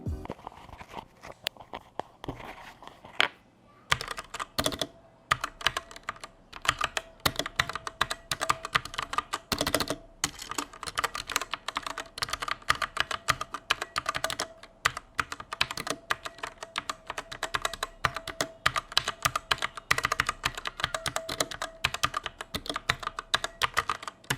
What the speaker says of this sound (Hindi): अब मैं आपको इस कीबोर्ड के साउंड को सुनाता हूँ